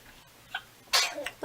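A sharp, close sneeze bursts out after a quiet stretch, with another noisy, breathy outburst starting right at the end.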